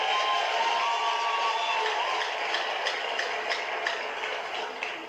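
A large crowd at a Nigerian political rally keeps up a broad, steady wash of clapping and cheering that lasts the whole time, with a few sharper claps standing out.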